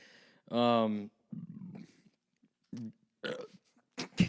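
A loud, close burp goes straight into a microphone, one deep gurgling belch followed by quieter talk and laughter.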